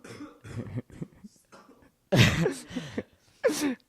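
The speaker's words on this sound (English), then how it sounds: "He coughs a little bit." Several short, harsh bursts of coughing, close and fairly loud, with quieter breathy sounds and throat noises before them.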